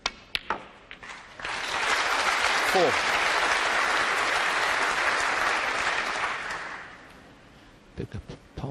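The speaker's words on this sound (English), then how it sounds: "Big applause from the crowd there" A snooker crowd at the 2019 Welsh Open breaks into loud, sustained applause that swells, holds steady for several seconds, then fades, with a few scattered claps and clicks around it.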